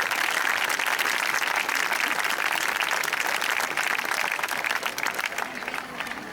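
An audience at the opening ceremony of the 49th Festa dei Ragazzi applauds, dense, loud, sustained clapping from a large crowd that thins slightly toward the end.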